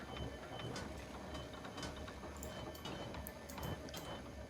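A crafting bench in the video game Kenshi turns out hinges and heavy bolts, a faint, continuous mechanical ratcheting and clicking with small ticks and clanks repeating irregularly.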